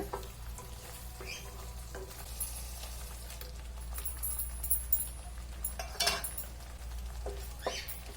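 Tomatoes frying in hot oil for an egg masala gravy, a low continuous sizzle with clinks and scrapes of a spoon against the pan, some louder stirring bursts, no talk.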